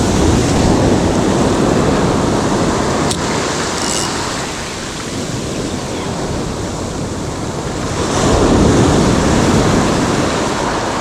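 Ocean waves wash against a Jamaican shoreline during lure casting, a broad steady roar of surf with wind buffeting the microphone, swelling louder toward the end.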